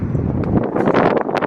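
Gusty wind buffets a microphone outdoors beside parked cars, a steady broadband rush with louder gusts swelling and fading throughout, close and continuous with no speech.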